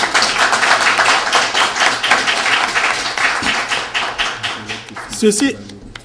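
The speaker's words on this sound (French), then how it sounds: "Je voudrais, avec votre permission, que nous l'applaudissons ensemble pour le travail bien fait." Audience clapping at a strategic reflection gathering of a political party in New York City, a dense, sustained round of applause from a crowd that carries on for several seconds.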